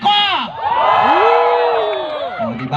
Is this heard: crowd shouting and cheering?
yes